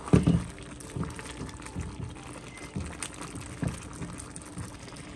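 Masoor dal simmering in a pot with jackfruit seeds, a soft, continuous bubbling with a few louder liquid bursts near the start, close and moderately quiet.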